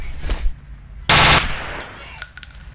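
Enemy soldier's gun laying down covering fire in the video game F.E.A.R., with a loud, dense burst of automatic gunfire in the middle and scattered, quieter shots and impacts around it.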